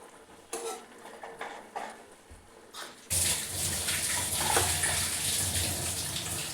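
Water poured into fried spices in a pan for an okra curry, setting off a loud, steady hiss and bubbling after a few quieter kitchen clinks and stirs.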